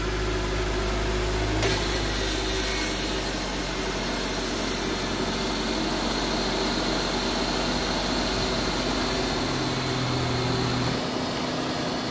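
A car engine started during an air-conditioning system check, running steadily at idle with a constant low hum and vibration throughout, loud and close, with no talking.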